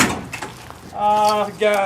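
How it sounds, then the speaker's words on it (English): The passenger door of a Toyota Solara demolition derby car opens with a brief clunk, followed by someone talking nearby. "Passenger door still opens."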